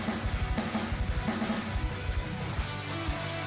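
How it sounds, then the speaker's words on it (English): A drum kit plays a steady groove, kick and snare hits repeating in a regular rhythm with cymbal wash above, clean and moderately loud. "A well-recorded drum kit usually sounds like this."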